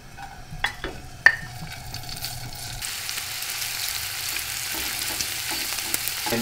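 Finely chopped bacon sautéing in a pan: a few utensil clinks and a sharp tap at first, then a steady close sizzle rising and holding to the end.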